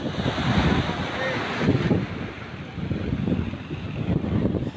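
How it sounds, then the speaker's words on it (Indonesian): Large ocean waves crash at a fishing harbor on the Tanggamus coast, a loud, continuous roar of surf with surging pulses and wind buffeting the microphone. "ombak besar yang melanda Laut Tanggamus ini sudah berlangsung sejak 1 bulan lalu"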